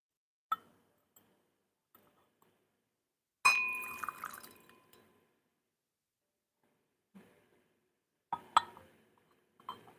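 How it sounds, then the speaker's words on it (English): A glass tea pitcher clinks against a spoon during a Chinese aged white tea ceremony: a few bright isolated taps, one ringing glassy strike with a lingering tone, and faint trickles of liquid in a quiet room. "This glass cup with a spoon. This glass cup."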